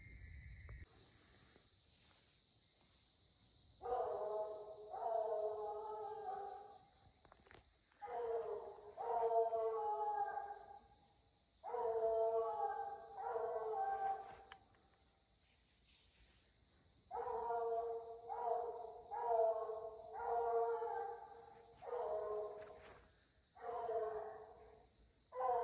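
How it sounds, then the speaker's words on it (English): Coon hounds bay at night on a spring raccoon hunt, sending out repeated bursts of bawling in clustered runs that sound fairly distant. A steady insect trill carries on beneath them throughout. "He may be treed now."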